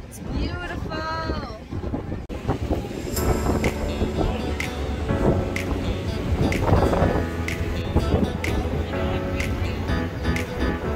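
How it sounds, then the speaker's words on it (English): Strong wind buffeting and roaring across the open top deck of a boat, with a hum of engine and people talking underneath. "It's extremely windy up on the top deck"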